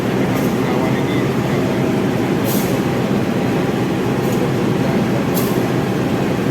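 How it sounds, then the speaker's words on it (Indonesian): Bengawan passenger train running through Gombong station in Indonesia, a steady loud rumble of wheels and rolling stock throughout, with a few brief higher screeches or hisses. "Kita bakal disusul kereta api Bengawan di sini"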